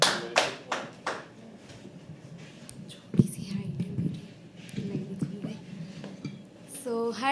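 A few audience members clap at a live poetry open mic at The Habitat. Scattered, uneven claps and taps come in short bursts over low murmuring and whispering voices, with a sharper thump in the middle.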